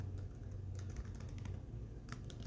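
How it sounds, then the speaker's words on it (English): Steady typing on a computer keyboard during a web-scraping coding session, with quick clicky keystrokes coming close and continuous over a low background hum, no talk. "and then we're going to type in format"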